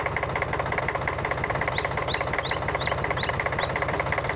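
A tractor engine runs steadily at idle, a loud low throbbing chug with regular knocking pulses, joined midway by faint high chirping tones; no one speaks.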